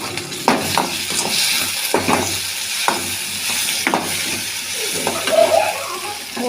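Onion and tomato fry in a pan for a peanut chutney, giving a steady sizzle with scraping stirs across the whole stretch. A few louder clatters stand out, and nobody speaks.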